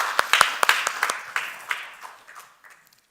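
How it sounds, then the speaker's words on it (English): Audience claps after a presentation on power system solutions, a short scattered round of applause from a modest group that quickly tapers off to a few last claps. "A round of applause to you guys."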